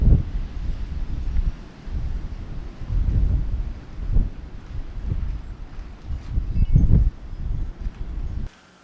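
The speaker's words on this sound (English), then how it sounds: "Just going to let this run and see what the wind sounds like." Wind buffeting a fully foam-covered microphone outdoors, loud low rumbling gusts rising and falling in waves, then cutting off abruptly at the end.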